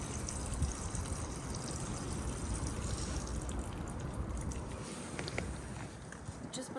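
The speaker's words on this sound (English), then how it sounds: "just let all the water drain out of the pipes so you don't get the inside of your garage wet" Water trickles and drips as it drains out of the water pipes of a 2025 Swift Kontiki 784 motorhome, a soft, continuous splashing under faint background noise.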